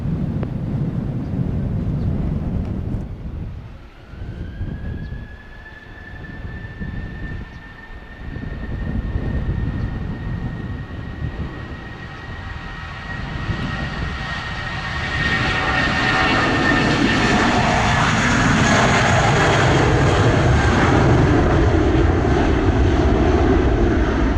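A jet airliner takes off from runway 07 at Montego Bay, Jamaica, in a 19-knot wind. Its engines build from a steady distant roar into a loud, broad rumble with a rising whine, and the roar stays alone and sustained.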